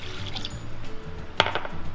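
Water pours into a pot to start a syrup for Torta Cebuana, a short close trickling fill with a brief clink partway through, alone.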